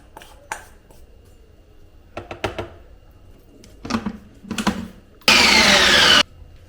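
A few scattered clicks and knocks, then a mixer grinder grinding tomato chutney roars into a loud whirring burst for about a second before cutting off.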